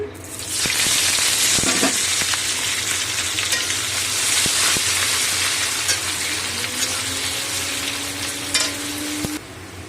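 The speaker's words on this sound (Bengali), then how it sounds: "ওই তেলেতেই পেঁয়াজ দিয়ে দিচ্ছি" Onions sizzle loudly in hot oil left from frying potatoes in a pan, a steady broadband hiss with occasional stirring clicks, close and continuous for about nine seconds with no talk.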